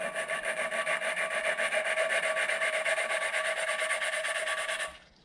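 A Honda CB500 valve being lapped against its seat with a suction cup tool, a continuous gritty rasping scrape in quick back-and-forth strokes, close and steady, stopping abruptly near the end.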